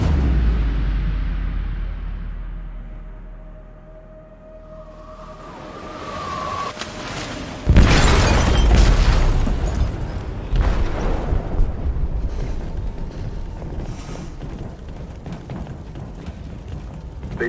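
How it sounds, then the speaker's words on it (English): Explosion in a ship's hold in the video game Detroit Become Human, a sudden loud deep boom midway through followed by a long rumbling, crashing roar over low ambient rumble. "They detonated an explosive in the hold. The ship is sinking, sir."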